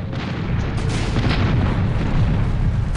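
A cannon volley booms in the airship battle game Air Buccaneers. A loud, continuous roar of artillery and explosions fills all three seconds, with dense rumbling and no break.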